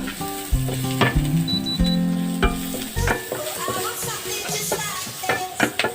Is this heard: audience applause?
no